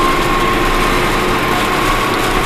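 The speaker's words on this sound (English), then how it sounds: "I should make it home pretty easy with my tractor" Tractor engine running steadily during a heavy April blizzard with thunder snow, a constant close drone with a faint whine over windy, noisy air.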